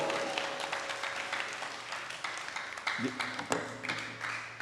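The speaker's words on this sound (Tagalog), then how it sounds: "Palakpak muli sa Panginoon!" A church congregation applauds during a worship service with a sustained patter of many hands clapping, with a few sharper claps and brief tonal sounds near the end.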